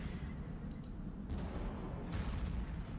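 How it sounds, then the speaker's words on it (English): Artillery fire in the Warhammer 40K: Armageddon strategy game, heard as a continuous low rumbling barrage with a few sharper distant booms rising out of it, steady and fairly faint throughout. "first thing I want to do is to use my own artillery"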